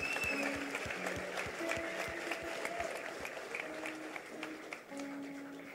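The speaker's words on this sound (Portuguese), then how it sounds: "Salva de palmas, galera" Applause from a church congregation, steady clapping with a music bed under it, moderately loud, occasional voices mixed in.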